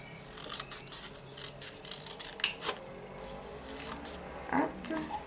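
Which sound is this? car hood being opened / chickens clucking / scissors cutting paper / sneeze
scissors cutting paper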